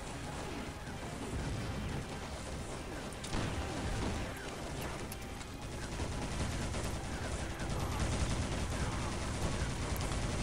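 Dense WW2 video-game battle noise with musket fire and other guns popping against a constant loud roar of distant explosions and combat.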